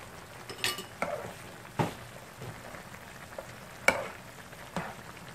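Chicken tinola being stirred in a pot after fish sauce is added, with a few scattered clinks and scrapes of a utensil against the pot over a soft simmering background, no talking.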